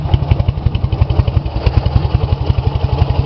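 A Ural 650 M-66 motorcycle engine runs steadily up close, with a fast, even train of deep thumping exhaust pulses and light mechanical clatter, and no talking.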